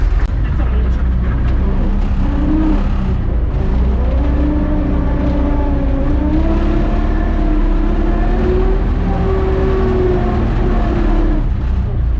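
A YuMZ-6 tractor pulling an old cultivator runs with a steady, loud diesel drone whose pitch rises and falls slightly as it turns, continuous throughout with a voice occasionally over it.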